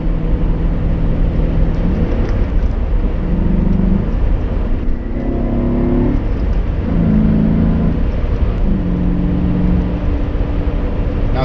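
A 1995 BMW Alpina 530i pulls hard through several gears, its engine note climbing in pitch and dropping back at each shift, loud and close over a steady road roar.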